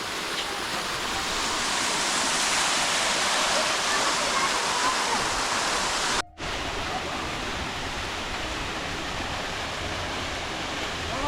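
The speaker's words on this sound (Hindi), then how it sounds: "वो पानी नीचे जा रहा है जी यहाँ से," Water from a stream near Kabul rushing steadily downhill, a loud, close, continuous hiss that cuts out for a split second midway, with no voices over it.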